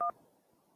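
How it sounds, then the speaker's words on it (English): A single short telephone keypad tone, pressing 1 to accept a call, sounds loud and brief at the start and then drops to faint background hiss. "To accept, press 1."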